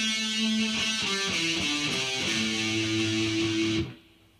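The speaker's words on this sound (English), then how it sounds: "The first one is the pentatonic scale." Distorted electric guitar runs up and down a pentatonic scale in a heavy metal style, each note ringing out clearly in steady succession, loud and alone before cutting off sharply near the end.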